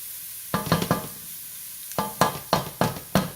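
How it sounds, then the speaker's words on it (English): Fresh garden squash sautéing in oil in a pan, a steady sizzle under repeated sharp scrapes and knocks of a utensil stirring, in short clustered bursts, close and fairly loud. "But I want my vegetables to be sauteed."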